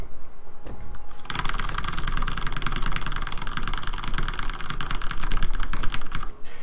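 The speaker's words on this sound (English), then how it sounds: "You should hear how fast I'm clicking." Fast, dense clicking of buttons being mashed during an arm-wrestling game set in Los Santos, a steady rattling stream over a low game engine hum with no talking.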